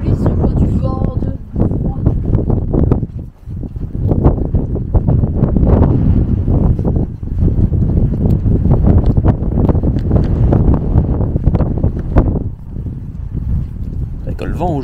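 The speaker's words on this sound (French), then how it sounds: "Avec le vent aujourd'hui." Strong, cold wind buffets the microphone in rough, gusty low rumbles that rise and dip throughout.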